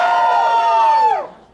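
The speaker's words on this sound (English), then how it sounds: "Wizards, give me a cheer." Audience at a furry convention opening ceremony gives a loud, sustained collective whoop with rising and falling pitch before it trails off.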